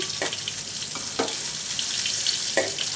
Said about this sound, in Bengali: মাছগুলো কিন্তু ভাজা হয়ে গেল